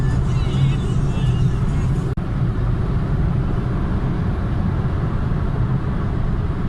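Inside a Toyota Corolla 1.6 with 132 hp climbing a ramp, a steady engine and road drone fills the cabin, broken once by a short sharp click partway through.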